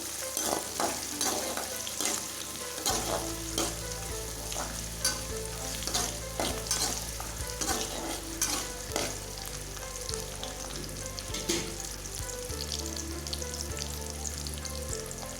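Onions sautéing in a pan for a thalaikari kuzhambu (goat head curry), a steady close sizzle with scraping stirs throughout and a low hum underneath, no talking.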